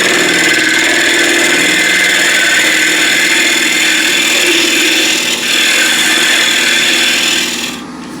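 A bowl gouge cuts into a spinning wooden bowl on a lathe, making a steady loud scraping hiss over the motor hum that runs continuously and fades at the end.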